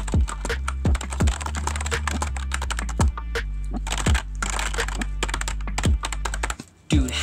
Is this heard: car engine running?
no